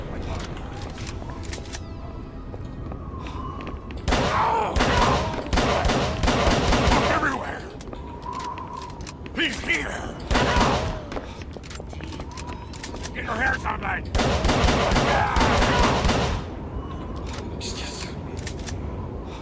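Repeated bursts of gunfire in Call of Cthulhu: Dark Corners of the Earth, some rapid and some single shots, with mechanical clicks between them and a voice talking over parts of it.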